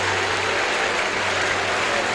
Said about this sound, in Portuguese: Aplauda o senhor de novo.